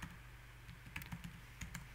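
Keyboard typing as an account entry is added in the KeePass password manager: a quiet, irregular run of close keystrokes with a few louder clicks, no voices.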